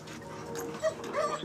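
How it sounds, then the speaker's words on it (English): A police dog at work on a night shift, giving soft whimpers and small yips at close range over a low background hum, with a couple of brief higher squeaks. "the dog could go in with a good idea of where he was and pick up the scent"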